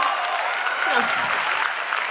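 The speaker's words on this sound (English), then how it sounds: "You have to clap." An audience claps for the winner of a debate competition, a dense, steady round of applause filling the room for the whole stretch, with a few voices mixed in.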